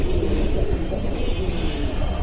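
Pigeons coo in a home loft of breeding birds, mostly hens with a few cocks, the soft calls steady and close against a constant low rumble of loft noise, with no one speaking.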